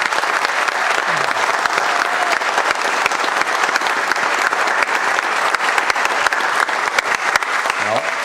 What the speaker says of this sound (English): So just if you could give them a round of applause